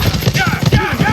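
Horse hooves clip-clop in a quick, even rhythm in the ArcheAge Unchained video game, close and loud, while a voice calls out over the steps.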